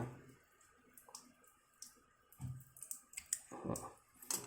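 Scissors snipping through a leaking bidet hose during a home repair, heard as a few sharp, close clicks spread unevenly over a quiet background with faint watery hiss.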